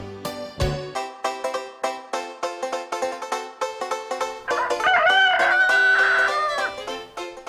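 A cartoon rooster in a children's Bremen Town Musicians story gives a drawn-out, wavering cock-a-doodle-doo over a bouncy, plucked musical accompaniment, loud and close.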